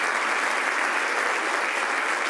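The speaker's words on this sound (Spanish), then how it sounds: "así que se merece un aplauso" Dense, steady applause from a concert audience in Zaragoza, a continuous wash of many hands clapping at even loudness from start to finish.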